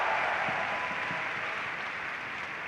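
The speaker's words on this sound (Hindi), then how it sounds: "जिनके लिए एक बार जोरदार तालियां बजा दीजिए" An audience applauds during a motivational success-story talk, with continuous, even applause that sounds somewhat distant and blends into a dense wash of noise.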